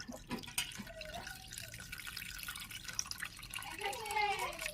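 Roasted mango sherbet being strained, with soft, faint liquid dripping and trickling into a container, a few small splashes and clinks in a quiet kitchen.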